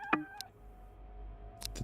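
A cat in the video game Road to Vostok gives a short, faint meow, followed a moment later by a few soft chirping calls against a quiet background.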